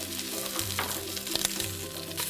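Onions and aromatics tipped into hot oil hiss and crackle loudly and continuously, a close, bright sizzle with faint music running beneath.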